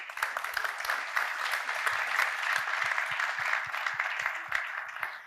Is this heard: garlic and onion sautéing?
no